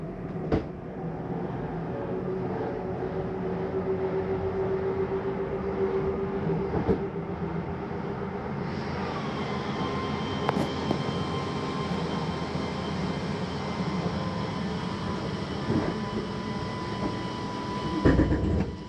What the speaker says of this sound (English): Same noise going out, coming in, tells you that the slide's all the way in.